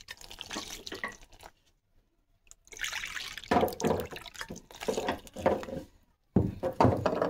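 Water poured from a measuring bowl into a pan of milk for payesh, three bursts of splashing and trickling with short pauses between, close and fairly loud.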